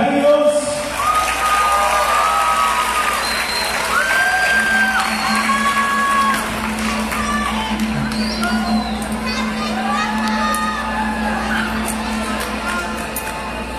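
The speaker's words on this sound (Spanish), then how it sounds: "Fuerte aplauso para ellos." At a horror festival in Monterrey, an audience claps and cheers for a group, with whoops and whistles rising over sustained applause and a low steady hum beneath, lasting well over ten seconds.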